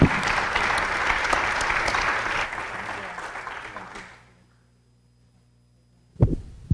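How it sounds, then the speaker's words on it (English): Applause from the audience at a city council meeting, loud and sustained for about four seconds before cutting to near silence, then a short burst of room noise at the end. "Big round of applause, please."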